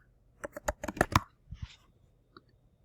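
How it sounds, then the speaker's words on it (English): Quiet, close clicks of a computer keyboard: a quick burst of about a dozen keystrokes in uneven rhythm, then a couple of isolated taps after a pause, with no talking. "click New Folder, type in Homework."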